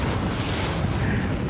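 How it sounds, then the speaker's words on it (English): A thermonuclear warhead detonates in Civilization VI, a loud, dense roaring blast that fills the whole short stretch with rumbling, noisy energy and no break. "We were going to launch a thermonuclear warhead at Bogota."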